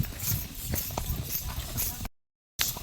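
A horse's hooves clip-clop in a steady walking rhythm as it is ridden uphill along a trail, with a brief silent gap near the end; a few faint voices are audible in the background.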